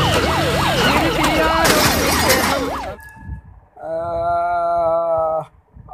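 An ambulance siren wails loud and close in a rapid rising and falling cycle, then cuts off and gives way to a steady tonal horn-like blare.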